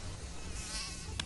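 Mosquito buzzing in a Mortein mosquito repellent advert, a thin whining drone that holds steady for just over a second, close and fairly quiet, with a brief sharper swell near the end and no talking.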